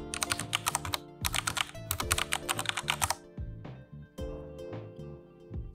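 Quick bursts of keystrokes on a computer keyboard, close and crisp, in clusters of rapid clicks separated by short pauses, with a few isolated taps near the end.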